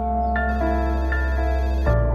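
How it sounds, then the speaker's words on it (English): A telephone bell rings steadily and alone for about two seconds, a loud continuous ring with no voices over it. "The phone rang"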